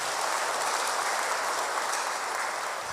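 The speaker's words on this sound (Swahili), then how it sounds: "hebu kwanza tupige Yesu makofi jamani" A church congregation applauds during a graduation service, a dense, steady burst of many hands clapping together that fills the room, with no talk over it.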